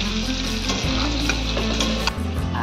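Okra and shrimp fry in a pan with a dense, loud sizzle under a steady low hum, punctuated by stirring scrapes and clacks of a spatula.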